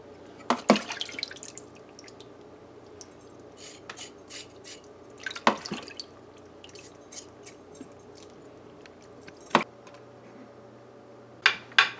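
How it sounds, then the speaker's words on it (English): Cut pork for a Guyanese stew is washed in water and vinegar, giving quiet wet squishing, drips and a few sharp splashes at irregular intervals close by. "we're going to wash our pork now"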